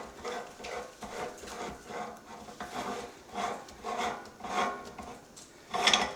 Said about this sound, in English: Now we're going to go for a fine grind.